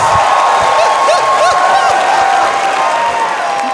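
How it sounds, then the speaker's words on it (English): A crowd at RuPaul's DragCon 2018 in Los Angeles applauding and cheering loudly during a keynote speech, continuous clapping with a few whoops and shouts mixed in throughout. "Give her a big round of applause."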